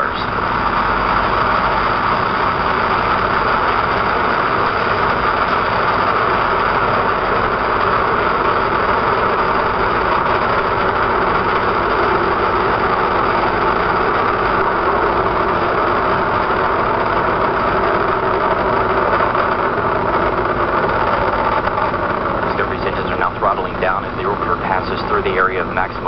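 Space Shuttle Discovery's final launch gives a sustained broad rocket roar as it climbs away, a dense continuous rumble with a commentator talking over it.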